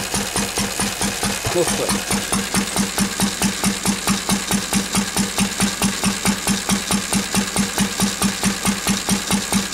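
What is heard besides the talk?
Lister D stationary engine running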